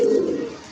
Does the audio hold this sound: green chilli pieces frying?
no